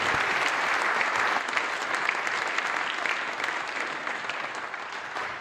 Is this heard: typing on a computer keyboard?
no